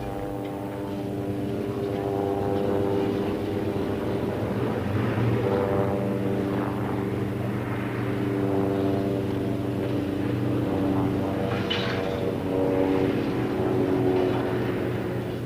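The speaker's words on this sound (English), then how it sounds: "At the back was the small pusher piston engine and propeller" A radio-controlled flying scale model of a canard future combat aircraft, driven by a small pusher piston engine and propeller, gives a steady, buzzing, droning hum that holds evenly throughout.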